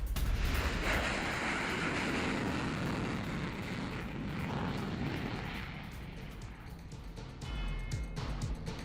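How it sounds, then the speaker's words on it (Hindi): Israeli F-16 fighter jets heading out on a strike roar steadily with a broad, rushing engine noise that swells and eases slightly across the clip, loud and continuous with no speech. "इजरायली F-16 विमानों से यह हमला।"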